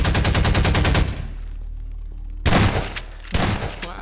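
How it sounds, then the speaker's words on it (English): Rapid automatic gunfire from an SMG and a pistol in a Source Engine video game, a loud sustained burst for about a second, then two more short, sharp bursts separated by ringing gaps. "But this still doesn't explain why only the SMG and pistol sound so odd."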